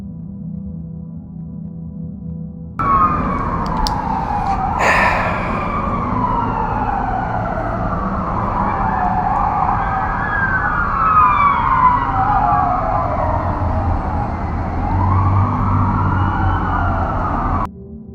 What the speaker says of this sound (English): I'm waiting for the sirens to pass,